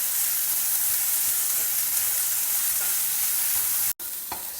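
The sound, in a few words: chopped onion sautéing with chana dal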